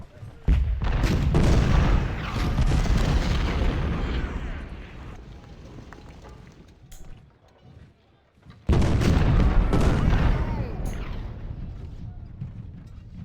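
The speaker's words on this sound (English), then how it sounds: "Counter battery fire is always good." Heavy booming cannon fire from counter-battery artillery in the Civil War strategy game Ultimate General: Civil War, two loud sustained bursts of rumbling blasts separated by a brief lull, with a player talking over it.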